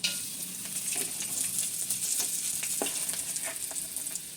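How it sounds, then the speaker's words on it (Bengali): Raisins fry in oil in a wok, a soft continuous sizzle with light crackles and a few faint clicks from stirring, close but quiet, with no talking. "এই কিশমিশগুলো একটু ভেজে নেব।"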